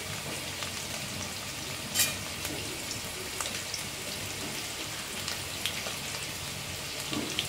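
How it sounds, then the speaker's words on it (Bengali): Ground spices hit fried potatoes in a pan with a soft, steady sizzle, broken by a few faint clicks and one brief stirring scrape near the start. "এবার এর মধ্যে আস্তে আস্তে একটু মশলা দিয়ে দেব"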